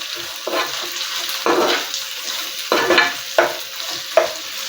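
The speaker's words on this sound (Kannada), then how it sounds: "ಸ್ವಲ್ಪ ಆನಿಯನ್ ಲೈಟ್ ಕಲರ್ ಬರೋವರೆಗೂ ಫ್ರೈ ಮಾಡ್ಕೊಳ್ಳೋಣ," Onions frying in a pan for lemon rice, a steady close sizzle broken by several spatula stirs and scrapes that come in bursts about once a second or two, with no voices.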